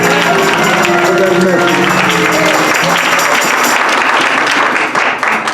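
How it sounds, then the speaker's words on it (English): Church congregation clapping hands in praise, a loud dense burst of many hands at first mixed with voices and sung tones, then continuing applause that tapers off near the end. "Let's give God a hand clap of praise for that"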